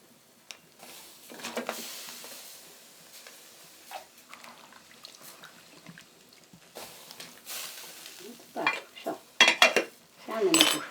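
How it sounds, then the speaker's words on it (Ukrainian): Food is tipped into a pot while preparing a midday meal, with metallic clinks of cutlery and cookware, light stirring and scraping, and louder clattering knocks near the end, close by with no talk. "Так, тепер я мечу до каструлі."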